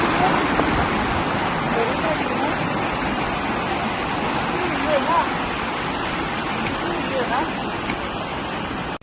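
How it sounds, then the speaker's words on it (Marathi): A waterfall spills beside the trail up Kalavantin Durg, a steep hill fort in India, making a constant broad rushing roar that stays close and steady throughout, while someone speaks over it. "इकडे मस्त पाणी असं येतो धबधबा वाहतो आपल्याला इकडे"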